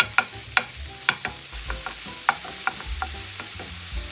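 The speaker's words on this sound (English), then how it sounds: "Put the pork in a preheated pan without oil and cook over medium heat." Pork sizzling in a preheated dry pan over medium heat, a steady bright frying hiss with occasional pops and stirring scrapes, close up and with no talking.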